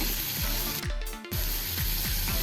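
Sliced onions sizzling in hot oil in a pan for a home-style chicken curry, a steady loud hiss with a brief dip partway through, no voices.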